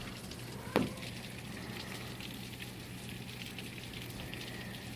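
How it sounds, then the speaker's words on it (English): Steady rain falls throughout a thunderstorm, a constant broadband hiss with no voices, briefly broken near the start by one short louder crack or thump. "it's raining really bad again today because it just can't stop thunderstorming"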